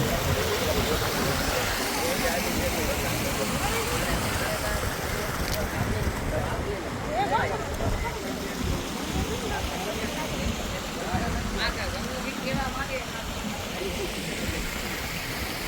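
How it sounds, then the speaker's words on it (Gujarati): Water flows and churns in a farm well, a steady rushing wash that fills the scene with constant noise while people talk over it. "પાણી હાલે"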